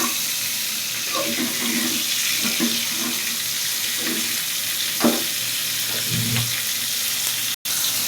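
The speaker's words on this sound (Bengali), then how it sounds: "মাছটা ভাজা হয়ে আসছে প্রায়, এখন উল্টে পাল্টে দেবো আর কি" Koi fish sizzle while frying in a pan, a steady hiss and crackle with occasional stirring and clinks of a utensil, and a brief dropout near the end.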